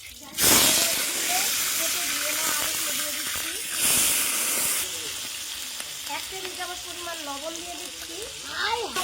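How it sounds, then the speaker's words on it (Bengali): Potatoes frying in hot oil in a wok, a loud steady hiss and sizzle that surges at the start and again midway, with faint talk and a few utensil clinks underneath. "প্রথমে আলুগুলো ভেজে নেব গরম তেলে গরম তেলে ভেজে"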